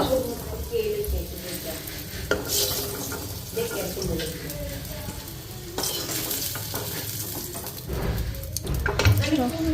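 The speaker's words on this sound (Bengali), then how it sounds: "আর এখন বেগুনগুলি আগে ভাজা নেব, পরে আলুগুলি ভাজুম।" Eggplant frying in oil in a home kitchen pan, a steady close sizzle and crackle with stirring and utensil clatter, voices talking at times.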